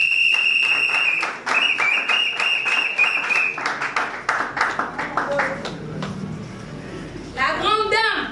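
Scattered audience clapping at a political gathering of the MLC party, uneven claps heard under a loud, sustained tone and other sounds, ending with a brief burst of voices.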